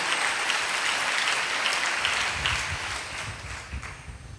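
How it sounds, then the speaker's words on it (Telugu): Many worshippers clap together at a church sermon, a sustained crowded patter that carries on evenly, with deeper thumps and some voices mixing in toward the end. "కొట్టండి చప్పట్లు"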